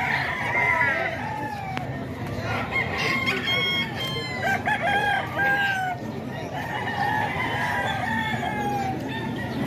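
Several young roosters (stags) crow repeatedly, overlapping one another with rising and falling calls over a busy, noisy background of other birds.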